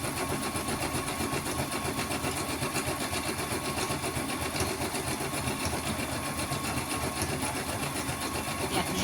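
Sewing machine running a zigzag stitch for free motion embroidery, a steady fast mechanical whir and rattle, loud and close, continuous throughout with no pauses.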